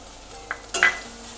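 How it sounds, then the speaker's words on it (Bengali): Ginger and garlic paste being fried with onions in a pan for chicken shahi korma, a low hiss broken by a short spatula scrape and a brief louder sizzling burst. "আদা রসুনটা দিয়ে মিনিট খানেক কষিয়ে নিলাম যাতে কাঁচা গন্ধটা চলে যায়"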